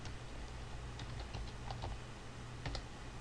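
Steady typing on a computer keyboard, quick soft key clicks in an uneven rhythm over a low hum, close but quiet and with no talk.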